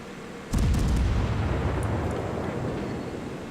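Ship guns firing in a naval battle video game, with one sudden heavy boom that rolls into a long, deep rumbling decay lasting several seconds, loud and close, with no talk.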